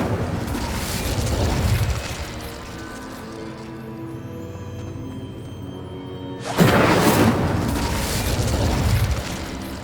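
An Incendio fire spell is cast in the Hogwarts Legacy video game: a roaring, explosive whoosh of flame that fades to a lower rumble, then a second loud fiery burst breaks out and keeps roaring to the end.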